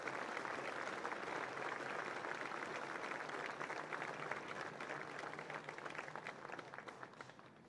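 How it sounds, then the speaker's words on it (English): Steady audience applause at a Concordia Lutheran High School alumni awards ceremony, dense clapping from a crowd sustained for several seconds and tapering slightly toward the end, with no talk over it. "Let's have a round of applause for the two recipients for their awards."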